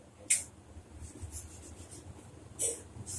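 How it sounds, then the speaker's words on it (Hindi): Marker pen squeaking across a classroom board during a polity lesson, two short, faint squeaky strokes separated by a quiet pause, with room hum underneath. "ये तो मार्कर नहीं चल रहा है, दूसरा लिखते हैं"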